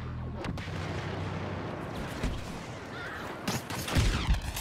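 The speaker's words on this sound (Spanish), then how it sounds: "Me están disparando por ese lado." Rapid bursts of blaster and gunfire crackle through a Star Wars Battlefront match, with a steady low rumble of battle underneath and sharper loud shots clustering toward the end.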